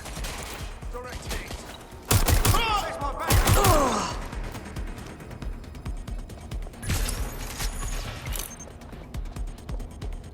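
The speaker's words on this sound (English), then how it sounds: "Gunfire!" Bursts of rapid gunfire crackle over a background of ambient noise and distant effects, with a second volley a few seconds later, in the video game Watch Dogs Legion.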